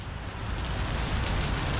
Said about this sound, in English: Just look at the rain.